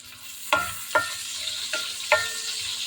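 Pork belly sautéing for ginisang monggo with a steady sizzle in the pan, broken by four sharp scrape-and-stir strikes as the meat is turned, close and fairly loud.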